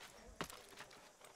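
Horse hooves clip-clop in the Assassin's Creed video game, a few faint irregular footfalls over soft game ambience.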